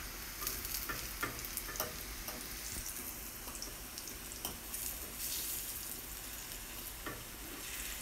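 Chickpea tofu shallow-frying and browning in a pan, a steady crackling sizzle broken by a scattering of sharper pops and a few clinks of stirring, with no voices.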